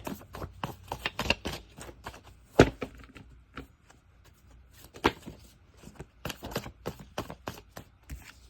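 A deck of paper oracle cards is shuffled by hand nearby, giving irregular crisp riffles and soft slaps in bursts with short pauses, quiet and without talk.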